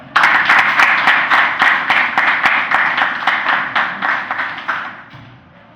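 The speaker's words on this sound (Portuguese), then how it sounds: "Salva de palmas para o vosso colega." A classroom of students applauds a classmate after an oral answer, steady close clapping from many hands lasting several seconds before tapering off at the end.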